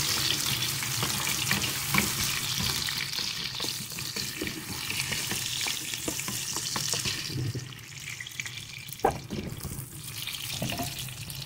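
Continuous sizzle of mutton caldereta being pan-fried and stirred, with scraping stir strokes over a steady frying hiss, close and loud.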